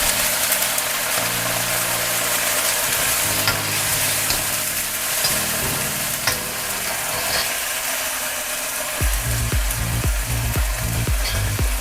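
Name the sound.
sardines frying and being stirred in a pan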